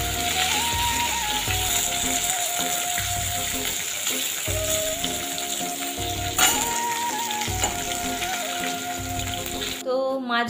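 Potatoes, drumsticks and tomatoes sizzle loudly in a hot pan after fish has been fried, a steady crackling hiss with occasional stirring scrapes and clinks throughout, close and continuous.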